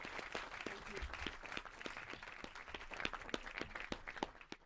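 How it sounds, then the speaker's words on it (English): An audience at a cricket awards evening applauds, with individual claps distinct and fairly sparse, the clapping moderately quiet and continuing throughout. "I think a round of applause for all those guys."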